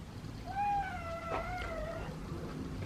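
A cat meows one long, clear, wavering call close by during feeding time with canned cat food, set against a low background hum.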